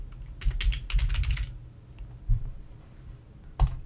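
Someone types a word on a computer keyboard: a quick, close burst of clicking keys, then a pause and a couple of isolated key presses, with no voices.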